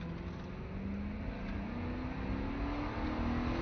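A car accelerates during emergency vehicle driver skid training, its engine droning steadily and rising slowly in pitch, heard from inside at moderate distance without talk.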